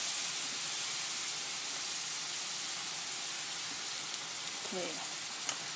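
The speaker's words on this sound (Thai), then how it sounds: "ผัดค่ะ" Chicken stir-frying with seasoning sauce and oyster sauce in a hot pan for Thai basil chicken rice, giving a steady, close sizzle and hiss throughout with a faint clink of a utensil near the end.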